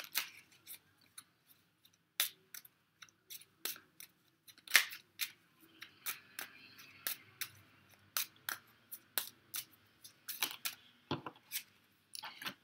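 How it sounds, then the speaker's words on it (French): Mystic Lenormand oracle cards being drawn and laid out, a quiet, close series of crisp card flicks, snaps and taps in an irregular rhythm with pauses between them. "on va tirer les cartes mystiques de Mademoiselle Lenormand"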